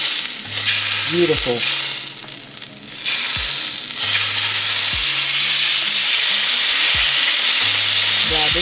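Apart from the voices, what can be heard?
steak searing in a hot stainless steel pan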